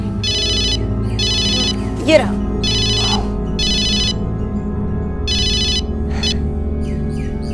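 A mobile phone ringtone plays loud and close in repeated electronic bursts, with short gaps between them, inside a home, while a person speaks briefly over it.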